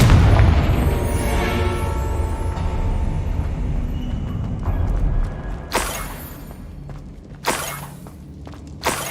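A Confringo blasting spell explodes in the Hogwarts Legacy video game with a loud opening boom that rumbles and fades, followed by two sharp cracking impacts a couple of seconds apart and a faint final one, with no talking.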